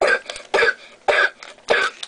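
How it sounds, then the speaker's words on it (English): A child coughing close by in four harsh, separate bursts at an even pace. "I got a kid coughing up his lungs over here"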